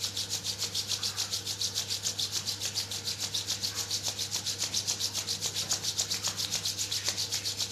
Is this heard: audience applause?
no